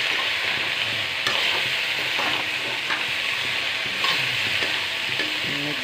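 Pumpkin, potato and soybean curry stirred in a frying pan, a steady close sizzle under repeated scraping strokes of a spoon against the pan, continuous with no talking.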